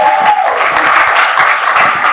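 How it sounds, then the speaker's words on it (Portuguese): Dense, steady applause from an audience at a live podcast event fills the moment, warm clapping sustained throughout with no pauses. "vamos dar uma salva de palmas para Kelly"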